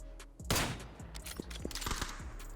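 Gunshots in the video game PUBG: a few sharp, distant cracks scattered over a low background hum, with one louder pop early followed by fainter scattered shots.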